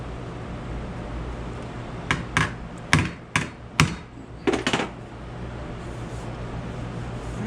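Hammer blows on a 3/4 inch steel plate reshaping pulled bolt holes during a John Deere B first reduction rebuild: about seven sharp metallic strikes in uneven pairs and singles, close and loud over a steady hum.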